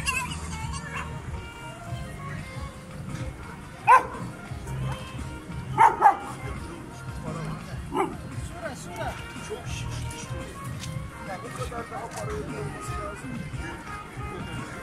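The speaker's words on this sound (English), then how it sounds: "Look at this dog." A dog on a lively city street in Batumi, Georgia, by the Black Sea, gives a few short barks around the middle of the stretch, standing out above steady street bustle and people talking.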